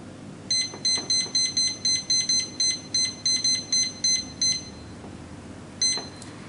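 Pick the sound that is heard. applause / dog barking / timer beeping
timer beeping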